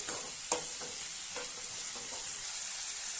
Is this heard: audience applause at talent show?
no